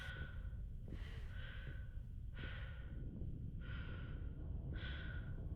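Slow, heavy breathing of a character inside a helmet in the video game Mass Effect, with rhythmic breathy bursts roughly every second over a low rumbling game background and no talk.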